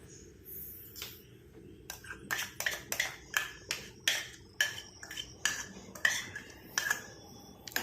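A ladle scrapes and clinks against a pot while mixing a paste into boiling liquid, a hair dye preparation, with steady rhythmic metallic knocks and scrapes close by, roughly one per half second.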